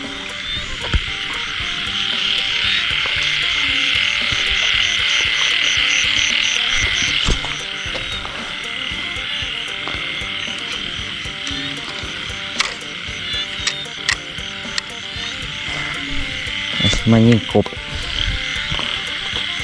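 After rain, many frogs croak in a dense, steady outdoor chorus with rapid repeated calls throughout, and a closer, louder burst of croaks near the end.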